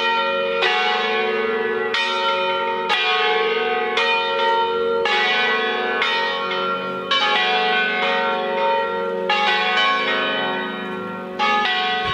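Church bells in Pavia, Italy ring out in a steady, overlapping peal, each strike blooming into a rich, sustained resonance, loud and continuous with no voices.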